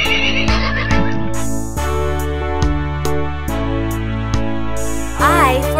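Over a children's alphabet train song, a horse whinnies several times at moderate loudness, the bright neighing calls sitting on top of steady backing music.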